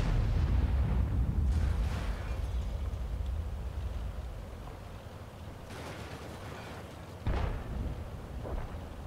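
A tank cannon fires in World of Tanks with a heavy, booming blast that rolls out into a long rumbling decay. A second sharp report follows several seconds later.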